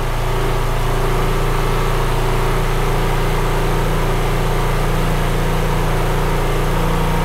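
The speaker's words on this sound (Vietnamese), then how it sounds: "tôi đang lên ga tốc độ rất là cao anh em nhá" A motorcycle engine is held at high revs during an exhaust emissions check, a loud, steady, unbroken drone with a constant low hum and no talk over it.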